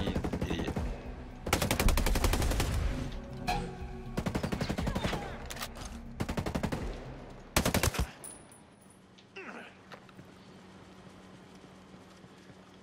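Rapid automatic gunfire in the shooter Ghost Recon Breakpoint comes in long, loud, close bursts of dense rattling shots separated by short pauses, then drops away to quieter ambience and a few scattered sounds.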